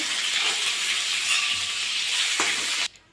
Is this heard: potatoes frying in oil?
yes